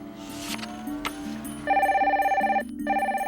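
A telephone rings with a loud electronic trill, repeating in steady pulsed bursts in the second half of the clip. Music and a voice can be heard before the ringing starts.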